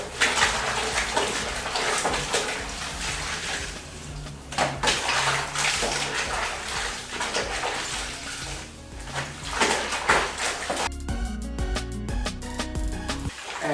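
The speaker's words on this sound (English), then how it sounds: "I'm just going to dip them in here, put them in, dip them in, because I want these to soak" Wet rags dipped and pushed into a basin of water to soak during hand washing of clothes, giving close, continuous sloshing and splashing with brief clinks near the end and no talking.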